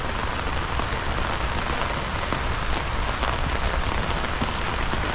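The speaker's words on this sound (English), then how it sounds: "to come to even more rain and storms." Steady, heavy rain pours down without a break, a dense hiss of drops striking hard surfaces.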